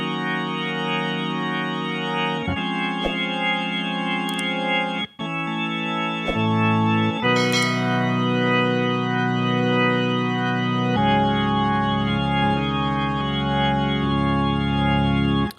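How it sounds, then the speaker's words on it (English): Vox organ model on a Nord Stage 3 keyboard plays a run of sustained chords with a bright, buzzy, slightly distorted tone, loud and uninterrupted, switching chords every few seconds. "Let's switch over to the Vox, which sounds like this."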